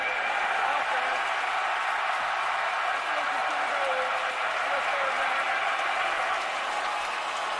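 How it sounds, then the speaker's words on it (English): A roaring stadium crowd at a Florida State versus Clemson college football game fills the air as a constant, loud wash of cheering noise, with a commentator's voice faintly beneath it. "He may have said that this crowd noise wouldn't bother him"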